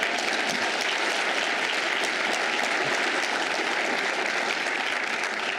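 Sustained applause from an audience at a city's State of the City address, a dense, even wash of clapping that stays loud and steady throughout with no pauses.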